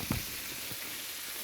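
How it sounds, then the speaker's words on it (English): Sausage cooking beside peppers, onions and bacon in a pan, giving a steady soft sizzle with a brief clatter at the start and no talk. "got our peppers and onions with the bacon in it. We got the sausage over here cooking"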